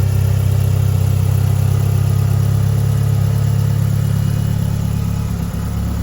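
A 1990 Eclipse GSX with its original equipment idles steadily while warming up after an engine install, a close, even, low rumble that holds for the whole stretch with no revving.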